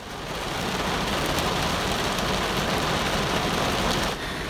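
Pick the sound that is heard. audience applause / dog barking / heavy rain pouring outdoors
heavy rain pouring outdoors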